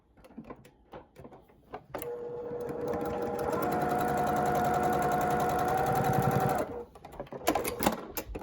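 Sewing machine stitching together two quilt pieces for a baby pinwheel block, a steady close motor whir with rapid needle clatter running for several seconds, framed by a few clicks and handling knocks before and after.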